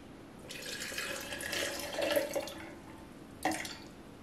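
Tea concentrate pours steadily for about two seconds, splashing into a container, followed by a brief second pour near the end.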